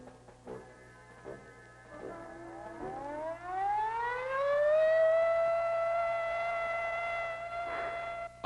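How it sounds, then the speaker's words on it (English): A civil defense attack warning siren winds up from low to a high, steady wail that sustains loudly, heard from some distance over a low background hum. "Attack warning came at 20:15 hours."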